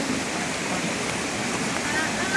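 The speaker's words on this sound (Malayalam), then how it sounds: "ഇതാണോ നിങ്ങൾ പറഞ്ഞ തോട്? ഇതാണ് തോട്" Water in a stream rushes and churns in a steady, loud wash with no break, close by.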